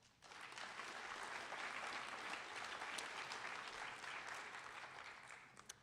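Steady round of applause from a banquet crowd honoring agricultural program competitors, dense even clapping rising quickly and holding, somewhat distant and faint.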